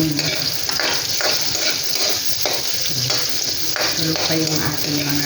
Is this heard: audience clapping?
no